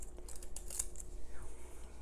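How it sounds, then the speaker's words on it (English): Herb scissors snip through Oregon grape leaves, producing a few quick, close crisp cuts over a low steady background hum. "It's an herb scissors. It just shreds your herbs into several little lovely strips."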